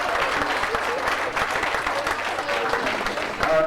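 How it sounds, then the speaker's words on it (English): A banquet audience bursts into sustained applause and cheers for the athletic therapist, dense clapping filling the room with a few voices mixed in. "too many of you are cheering, obviously"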